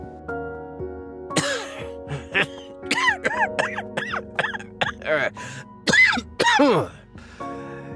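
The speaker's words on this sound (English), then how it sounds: "a bone-chilling laugh resounds, followed by a feeble coughing fit." A voiced, rising-and-falling cackle of bursts, then a couple of harsh, weak coughs near the end, close and fairly loud.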